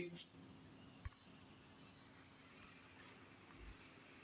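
A computer mouse clicks a couple of times in quick succession, a short sharp pair of clicks standing out against a quiet room background.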